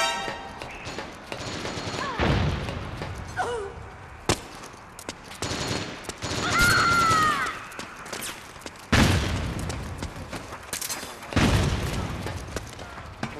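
Video game gunfire in a multiplayer survival match: scattered heavy shots and booming bursts, some near and loud, others more distant, with sparse in-game voice callouts between them.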